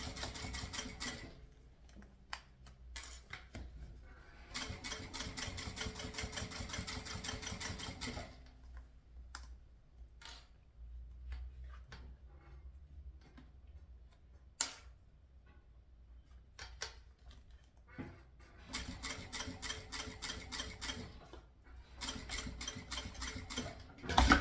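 A sewing machine stitches a synthetic shoulder bag in steady runs of rapid ticking, with long quiet stretches of small clicks and handling noises between the bursts.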